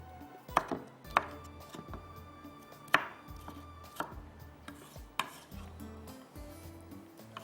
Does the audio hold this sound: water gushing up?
no